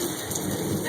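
Steady rain falls during a thunderstorm, a constant hiss of drops that holds at an even, moderate level for under a second.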